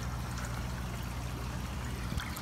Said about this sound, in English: there's the water draining out over there